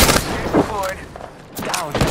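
Gunfire in a shooter video game: a couple of short, sharp bursts of shots close by, separated by a brief lull, in a fast two-second stretch.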